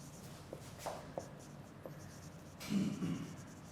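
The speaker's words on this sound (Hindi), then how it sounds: "इधर मैं बल्कि लिख भी देता हूँ इसको" Writing on a board during an MDCAT entry-test lecture comes through as quiet, scattered scratching strokes with short pauses between them, followed by a slightly louder burst of rubbing near the end.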